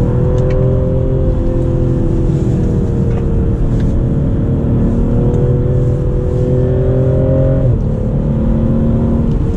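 A BMW M340i xDrive in Sport Plus mode accelerates hard on an icy mountain road, its engine note climbing steadily toward the red line before a brief shift, loud and continuous from inside the cabin.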